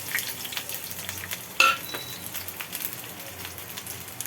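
A burst of hot oil sizzling and spitting as garlic drops into the pan, a loud crackle that settles into a softer steady fry.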